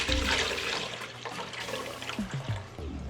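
Goat milk pours into a pot in a steady, close liquid rush that tapers into a lighter trickle with a few small splashes.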